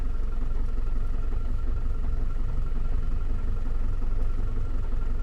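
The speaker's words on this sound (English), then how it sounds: "The engine runs smoothly and evenly." Land Rover Discovery diesel engine running on waste vegetable oil, idling with a smooth, even low rumble and steady rhythmic pulsing, continuous and fairly close.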